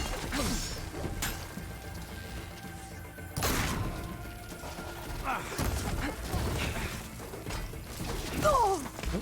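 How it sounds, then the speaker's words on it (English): Combat against a robotic machine in Horizon Forbidden West, with clanking mechanical sounds, gear-like ratcheting and sharp smashing impacts layered over game music and ambience, including a loud crash near the middle. "Let's take down this machine!"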